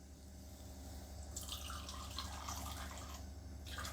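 Water pours from a cup into a pot for bhaidku, a Gujarati rice dish, and comes through as a soft, steady splashing trickle in two short bursts over low background hum.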